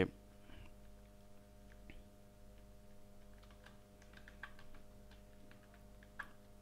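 Quiet typing on a computer keyboard while writing a WordPress post, a scattered run of soft clicks that bunch up toward the end, with a low steady hum underneath.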